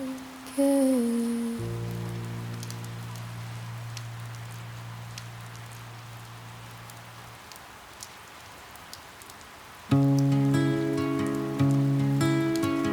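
Steady soft rain falling as a constant hiss with scattered drop ticks, heard under sustained synth and piano chords of a ballad.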